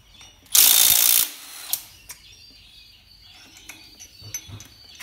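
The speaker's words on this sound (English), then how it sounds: "get our 14mm socket, stick it on the trusty Milwaukee, and here we go." A Milwaukee power tool with a 14mm socket undoing bolts on a Mazda MX-5 NC during an engine conversion, a loud whirring burst for about a second, then scattered clinks and light mechanical knocks.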